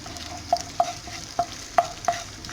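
Tomato paste fried in butter with a little oil is stirred in a pan, five distinct scraping strokes at a steady rhythm over a soft constant sizzle, close and alone.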